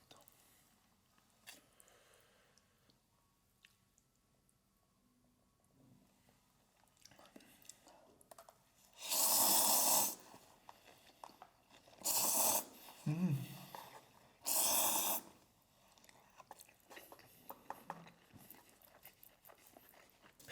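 Delivery pork belly wrapped in lettuce is bitten and chewed close to the mic, with three loud crunchy bursts of bites in the middle and soft chewing and quiet mouth sounds around them.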